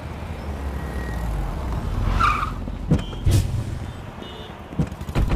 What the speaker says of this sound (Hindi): Hey, stop the car.